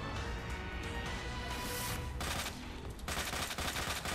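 Rapid gunfire from Resident Evil 2 fills the whole stretch, dense bursts of shots layered with sharp impacts, loud and continuous with only brief dips between volleys.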